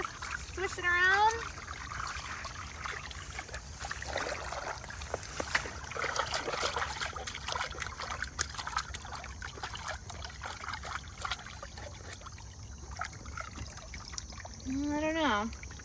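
A small net being swished around in pond water makes a steady, soft rushing and trickling slosh that runs throughout. Chirpy bird calls and faint voices sit in the background.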